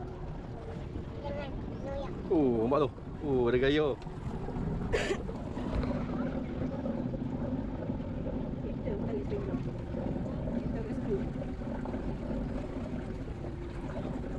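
A boat steered by a captain across Taiping lake, its steady low motor drone and water rush running throughout, with wind noise and people talking over it.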